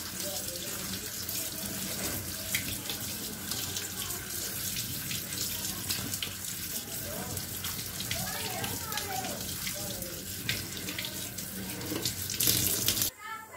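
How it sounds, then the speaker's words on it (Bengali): Running tap water splashes steadily into a sink while Malabar spinach stems are rinsed clean, with a continuous close patter and trickle that briefly grows louder near the end. "পুঁই শাকের মেছুলিগুলো আমি ফার্স্টে পরিষ্কার করে ধুয়ে নিচ্ছি"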